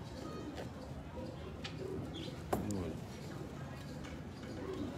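Pigeons coo softly nearby amid background chatter and general ambience, low repeated calls, with a sharp tick or click partway through.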